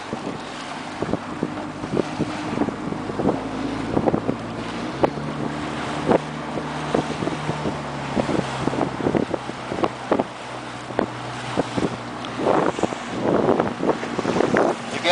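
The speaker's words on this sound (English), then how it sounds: "It's a lot of motor for this boat. So it'll run about 35 miles an hour with just you in it." Small boat with an oversized outboard motor running fast across open water, a steady loud engine drone mixed with hull slap, rushing water and strong wind buffeting the microphone throughout.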